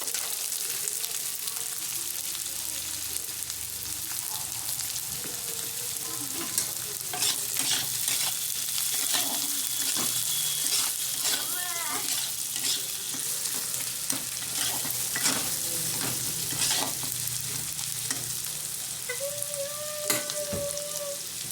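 Potatoes and onions frying in a pan, a continuous oily sizzle broken by repeated scraping stirs and clinks of a spatula, close and steady throughout.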